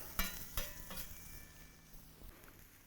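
Cheesesteak meat sizzling on an outdoor MoJoe griddle, a quiet steady fry with a few sharp clinks of a spatula scraping metal near the start.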